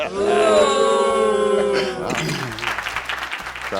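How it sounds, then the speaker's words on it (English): Sports crowd booing a player at a game, starting as a sustained, tonal, wailing drone from many voices and then breaking into rougher, noisier crowd roar for the rest. "Yeah, they're saying boo."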